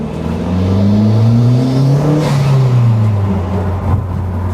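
A BMW E46 M3 Cabriolet's engine pulls hard under acceleration, its deep, loud exhaust note climbing in pitch and then easing back, heard close from inside the car.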